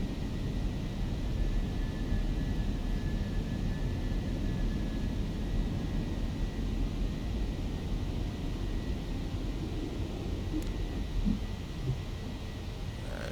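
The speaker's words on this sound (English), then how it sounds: "Positive rate of climb, landing gear up." Steady, loud broadband roar of an aircraft climbing just after takeoff on an evacuation flight from Miami, heard from inside the cabin as a constant rushing drone with no talk.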